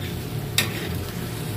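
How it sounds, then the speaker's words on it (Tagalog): A pot of soup is stirred, with a single sharp scrape or clink from the spoon standing out over a steady low bubbling simmer. "Haluin mo, para hindi siya magbuo."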